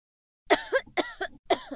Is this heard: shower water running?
no